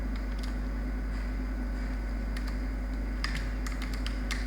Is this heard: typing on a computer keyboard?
yes